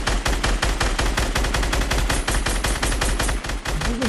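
Rapid automatic gunfire from a first-person shooter video game, dense bursts of shots in quick succession, loud and continuous with no talking.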